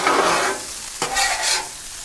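Potatoes fry on a Blackstone griddle and are turned and pushed around with a spatula, giving a steady close sizzle with a couple of scraping strokes partway through.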